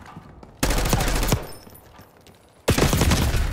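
Makarov pistol fire in the shooter game Black Ops 6 comes as two loud, close bursts of rapid shots separated by a quieter stretch of game ambience.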